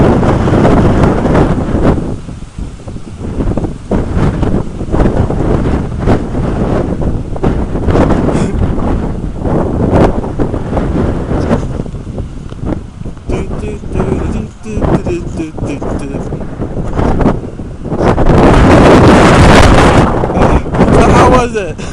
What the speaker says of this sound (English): Damn, this wind is strong.